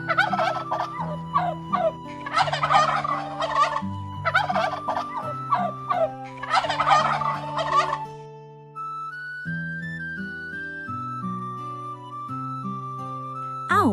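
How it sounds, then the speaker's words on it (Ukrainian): A cartoon turkey gobbles in three loud, rattling bursts over a cheerful background tune, which then continues alone. "Індик поважно походжає полем і розпускає хвіст."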